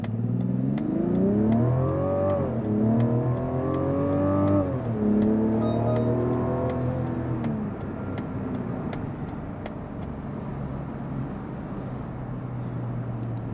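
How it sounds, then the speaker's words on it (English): A 2024 Mazda CX-90 SUV engine revs up through several gears in sport mode, each rising pitch sweep cut by a shift, then settles into a steady cruising hum with faint ticking. "Very nice sounding engine"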